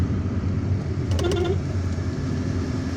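A car drives through an underpass in Algiers, a steady low road rumble and engine drone holding throughout, with a brief tonal whine in the middle.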